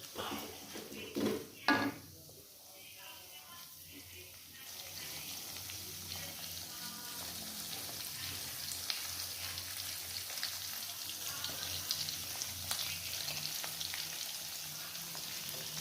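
Chili balado paste fries in a pan for fish balado, with a steady close sizzle and occasional knocks of a utensil stirring through it, a few louder clatters early on.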